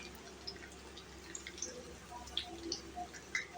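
Cumin seeds crackle in hot oil while a corn dosa batter is prepared, giving a steady, close sizzle with scattered small pops and spits throughout.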